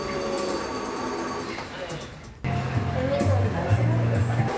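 Train on a Korean heritage line rolling and slowing to a halt at a station, with a steady rumble and rail noise that shifts partway through, while people talk over it throughout.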